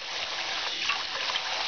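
Warm tap water runs steadily into a kitchen sink already holding soapy water, a continuous close splashing trickle heard on its own.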